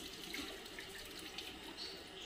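Water streams steadily over a dog during its bath, a soft continuous splashing and trickling with no voices, fairly quiet and close.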